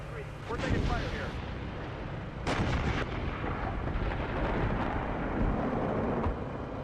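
Heavy gunfire and artillery in a military video game scenario, with dense bursts and booming impacts rolling continuously under radio-style voices calling out positions.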